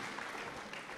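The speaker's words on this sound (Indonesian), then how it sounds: "Boleh tepuk tangan sekali lagi buat Rahma." Students in a school discussion setting clapping for a classmate, a brief, fairly soft and even patter of many hands with no voices over it.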